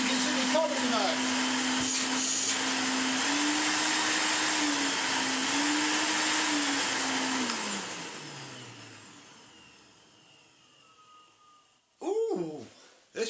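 Electrolux Dolphin 1000 Z2220 vacuum cleaner motor running in economy mode, a loud steady whine with a falling pitch that winds down and fades out, followed by a couple of brief knocks near the end.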